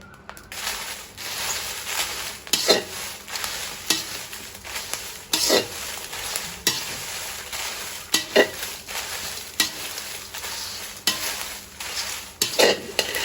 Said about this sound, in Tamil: எல்லாம் துப்புரவாக்கி போட்டு இப்படியே முழுசாயே போட்டு வறுக்கிறது